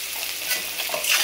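Vegetables for fried rice being stirred and fried in a pan, with a steady close sizzling hiss and soft scraping from the stirring throughout the short moment.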